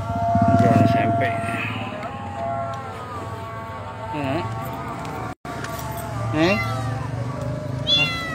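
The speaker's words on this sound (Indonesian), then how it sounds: "Anak kucing pinggir jalan bang." A kitten meows repeatedly by a roadside, several thin rising cries close by, with someone talking between and over them.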